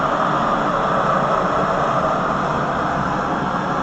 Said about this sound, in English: Flames from the reduction coming up the chimney